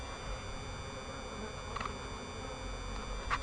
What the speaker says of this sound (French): Donc c'est un frelon